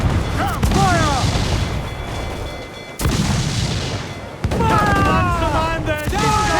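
Ship cannons boom in Assassin's Creed IV Black Flag, two sharp broadband blasts about a second and a half apart amid a noisy naval battle, with shouting crew voices over the din.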